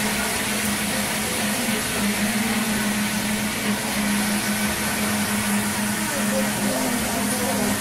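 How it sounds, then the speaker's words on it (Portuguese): A steady, loud whirring drone of a blender blending a potato base for caldo verde soup, running continuously with a constant mechanical hum and no pauses. "Estou batendo no liquidificador"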